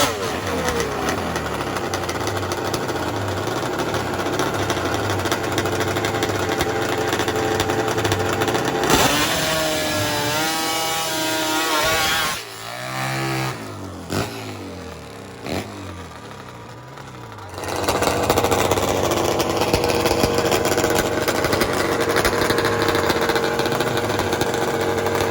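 A nitro-fueled Triumph drag racing motorcycle roars loudly, and its engine swells into rising revs midway before dropping and then returning to a sustained, heavy blare.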